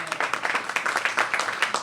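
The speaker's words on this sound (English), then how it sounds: "Give her a big round of applause." An audience at an outdoor ribbon cutting ceremony claps in a brief, fairly close burst of scattered, uneven applause.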